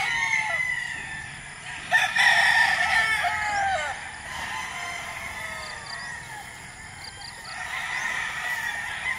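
Imported gamefowl roosters of the Hatch line crow repeatedly at a game farm, several overlapping calls at moderate distance, with honking fowl and clucking mixed in over a steady outdoor background.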